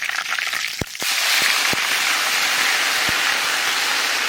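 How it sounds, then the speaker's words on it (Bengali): Bay leaf, dried red chilli, whole cumin and ginger drop into hot oil as tempering for dal, breaking into a loud, steady sizzle after a few sharp crackles and pops close by. "ডালে ফোড়ন দেবো, তেজপাতা, শুকনো লঙ্কা, গোটা জিরে। আজকে ফোড়নে দেবো আদা।"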